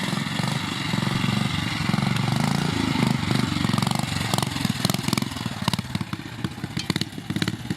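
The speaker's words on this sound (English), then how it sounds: "That's what a trials bike should sound like." Trials motorcycle ridden through a section at a club trial event, its single engine blipping and revving loudly with crackling throttle bursts and clattering over rough ground, heard close and continuous with no talk.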